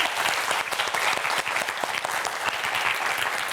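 A studio audience at a televised Korean science quiz show claps in a steady, dense burst of applause that fills the whole stretch, close and loud with no speech over it.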